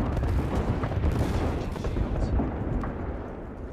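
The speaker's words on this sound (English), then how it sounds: "Taking fire." Dense, continuous gunfire and explosions from the Apex Legends video game, a loud, unbroken barrage of rapid shots that fills the whole stretch.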